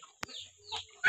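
Green Filipino-breed chickens for sale in Sangatta give a few soft clucks, near and moderately loud, ending in a louder burst of fowl calls.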